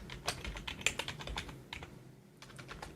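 Quiet computer keyboard typing while C++ code is entered: a run of fast, irregular key clicks, busier at first, then sparser taps after a brief lull, with no talking.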